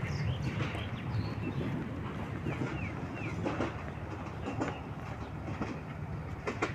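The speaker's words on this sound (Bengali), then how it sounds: "ট্রেন চলে গেছে।" A train passes at a distance with a steady, low rumble and faint clickety-clack, a few faint bird chirps heard over it.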